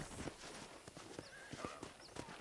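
Rhythmic clip-clop of horse hooves at a steady walking pace in the video game Red Dead Redemption, fairly close, with faint ambient noise and no talking.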